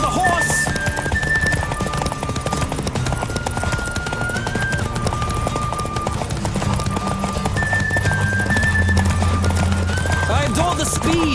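Horse hooves clip-clop at a gallop in The Witcher 3, a steady rapid beat mixed with game music and occasional voices.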